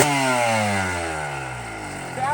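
A motorcycle engine idling on VP T2 racing gas, a steady, loud, close-up rumble with a faint rise in revs at the end.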